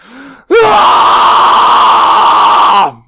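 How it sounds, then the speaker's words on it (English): A vocal coach demonstrates a yell scream technique: after a brief breathy intake, a single sustained, loud, harmonically rich scream holds steady for over two seconds before cutting off. "If I want to do a yell scream"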